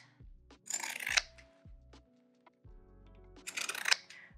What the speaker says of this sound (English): Just trim these seams with your pinking shears.